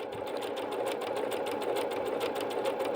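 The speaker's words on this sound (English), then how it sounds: "we're going to stitch out stitch number 10. Lock in stitch and then continue." A Bernette B-77 sewing machine stitches out decorative stitch number 10, giving a steady, close mechanical whirring with rapid rhythmic needle clatter and no talk.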